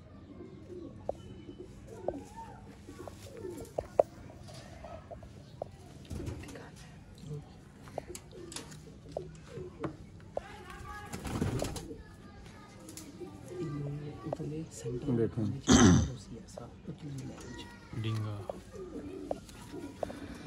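Pigeons coo softly in the background, crossbreeds of Ali and Teddy strains, while someone talks over them with a few louder handling noises and rustles.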